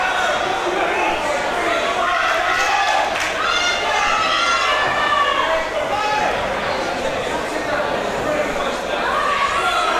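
At a white collar boxing event, the crowd cheers and shouts as a fighter charges in, with continuous excited chatter, yells and whoops from many voices filling the hall.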